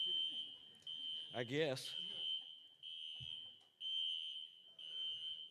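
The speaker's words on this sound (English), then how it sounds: "I set the fire alarm off" Fire alarm sounding at a business organisation's annual meeting, a steady high electronic tone broken by short gaps, loud and continuous, with someone speaking briefly over it.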